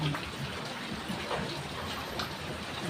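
Floodwater surges steadily after nonstop heavy rain, a broad continuous rushing and gushing that stays close and loud from start to finish with no talk over it.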